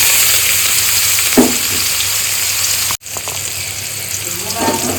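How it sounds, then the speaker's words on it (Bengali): Two large onions frying in hot oil left from frying three big pieces of katla fish, a loud continuous sizzle with a brief clatter of stirring and a short break in the middle. "ওই মাছ ভাজার তেলেই আমি দুটো বড় পেঁয়াজ দিয়ে দেবো"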